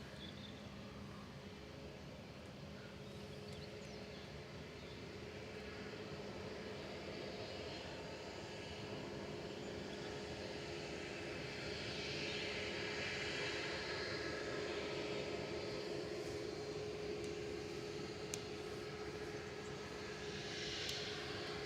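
A Ryanair jet departs Manchester Airport, its engine roar a steady distant rumble that swells gradually louder over the period, with no voices over it.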